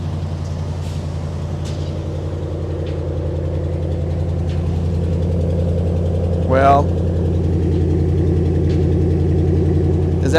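A Corvette engine idles just after starting, a steady low harmonic drone with brief ticks and a short rising whine near the end, while someone speaks briefly over it.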